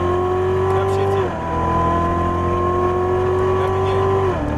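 A Chevrolet Corvette Stingray Z06 on a racetrack, its engine droning loud and steady as the revs climb, with two abrupt drops in pitch at the upshifts, all heard from inside the car.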